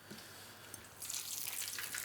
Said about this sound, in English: So you can hear that sizzle.